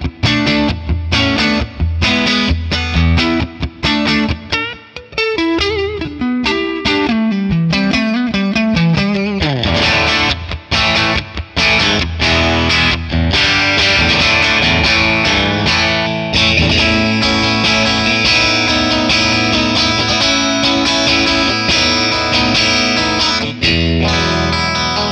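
A Stratocaster electric guitar played through a Friedman Plex DI tone model with reverb added, giving a loud, continuous distorted passage of strummed chords and riffs that rings on alone with no talking.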